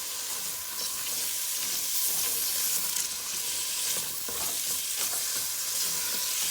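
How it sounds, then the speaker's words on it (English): Carrots frying in a pan, stirred with a spoon: a continuous close sizzle with scraping and clattering stirring sounds throughout, no voices. "I'm gonna give this a stir."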